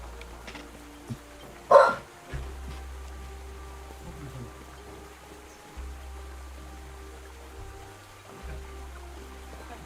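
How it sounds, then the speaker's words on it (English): A dog barks in the background, with one sharp bark standing out early and a few fainter ones after, over a quiet indoor room tone with low humming. "Got a barking dog."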